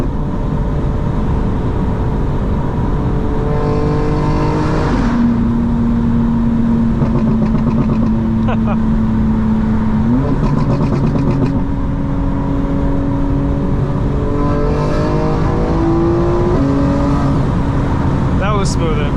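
A 900 HP 2025 BMW M4 Competition accelerates hard from inside the cabin, its engine droning loud and steady with rising pitch, a quick shift from fourth to fifth gear, then a continued climbing roar.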